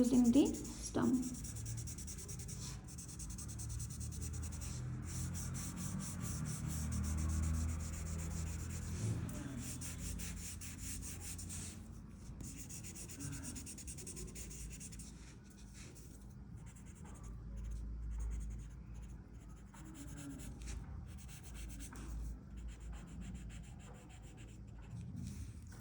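Blending stump rubbing graphite on paper while shading skin in a pencil eye sketch, a soft continuous scratchy rubbing with irregular strokes, fairly quiet and close, with faint speech at times.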